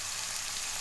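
Drumstick and tomato rasam ingredients fry in a covered pan with a soft, even sizzle over a brief moment.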